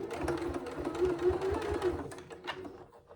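A sewing machine hums and stitches steadily while a zip pouch is sewn with a swivel snap hook being worked around, a continuous mechanical whir that thins out toward the end.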